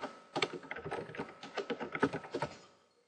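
Rapid keystrokes on a computer keyboard while building a Valentine pictograph in Excel, a close, busy run of clicky taps in quick bursts with no talking.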